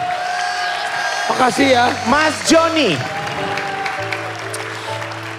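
A studio audience at a KDI 2018 singing competition applauds and cheers for a contestant, with clapping and whoops running beneath a singer's melodic voice and a short spoken thank-you.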